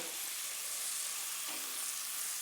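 Onion hits hot margarine in a pan for fried rice, giving a faint, steady high sizzle that runs continuously with a slight stir partway through and no talking.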